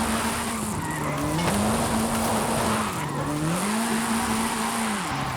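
A 1973 Alpine A110 1600S drifts in Forza Horizon 5, its engine wailing and sliding up and down in pitch while the tires skid and squeal continuously, loud and close with no talk.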